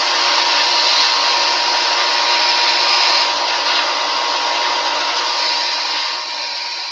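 A bandsaw sander shapes small parts for a Sig Somethin' Extra RC plane build, giving a steady, loud whirring drone that runs without a break and eases off slightly near the end.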